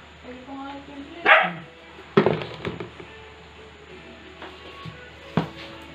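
Dogs bark in a few sharp bursts at moderate distance, spaced irregularly, with people talking in the background and some clattering.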